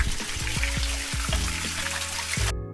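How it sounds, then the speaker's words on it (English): Water from a small waterfall in a dry canyon in Gila National Forest splashes and trickles close by, a steady pouring rush with irregular drips and plops, then cuts off abruptly. "And yeah, look, a little waterfall."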